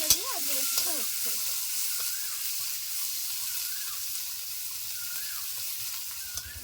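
Chopped onion frying in a little oil in a pan for a masoor dal and egg curry: a steady, bright sizzle hisses throughout, with a brief clatter at the start and faint high squeaks over the frying.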